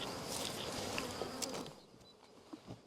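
Honey bees buzzing around hives kept at high altitude in the mountains, a dense steady hum of many insects close by, fading slightly toward the end, with no voices.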